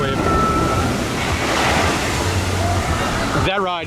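Power Wave water ride at Six Flags Over Texas splashing down: a loud, continuous rushing roar of churning water and spray, cut off near the end as a voice briefly speaks.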